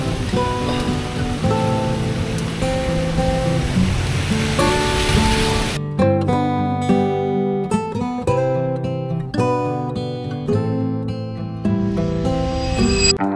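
A heavy downpour roars as a dense, steady hiss for about six seconds, then abruptly gives way to loud music.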